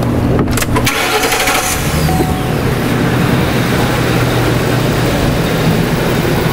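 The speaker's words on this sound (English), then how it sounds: "we want to go ahead and start this vehicle up" The engine of a 2009 Ford E250 van with a misfire cranks briefly, then catches and settles into a loud, steady idle rumble, heard close up with no talking.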